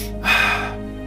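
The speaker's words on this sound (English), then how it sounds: "The repetitive breathing more quickly and deeply" A vigorous deep inhale drawn in quickly, part of a rapid breathing exercise done through the mouth or nose, heard close and alone with a brief rushing swell.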